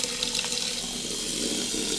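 Hot and cold water running steadily from a sink tap into a basin, a continuous close hiss and splash with no voices.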